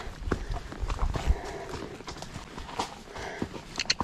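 A horse trotting in a field, its hooves clip-clopping in a steady rhythm, close by and fairly loud, with a rider's voice briefly over it.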